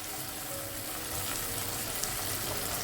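Chopped tomatoes and onions soften in a pan for a soya chunk sandwich filling, giving a soft, steady hiss of sautéing without speech.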